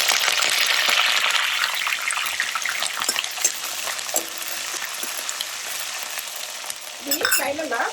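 Green chilies and curry leaves crackle and sizzle loudly in hot oil in a kadai, with a dense continuous frying hiss and occasional stirring clinks.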